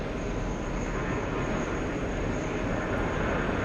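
A Boeing 787 airliner approaching the airport on its crosswind leg gives a steady, broad engine roar that holds evenly at a distance, with no voices.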